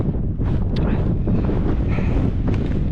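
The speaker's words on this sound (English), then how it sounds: "It is windy as F. Don't know if you can hear me." Heavy wind buffets the microphone on a mountain traverse in a steady, loud rumble, with gusty low roar and no clear voice throughout.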